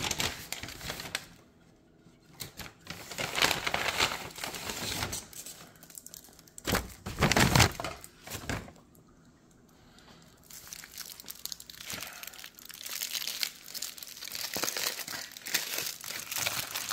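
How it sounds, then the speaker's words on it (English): Foil or paper wrapping from a Chipotle chicken al pastor burrito crinkles and crunches in bursts as it is pulled open, loud and close, with short pauses between rustling stretches. "Let's unwrap this sucker."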